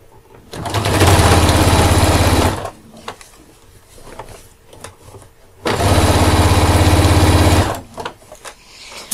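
Sewing machine stitching a 1 cm seam along the edge of a backpack, running in two loud, steady bursts of about two seconds each, separated by a quieter pause with light handling noise.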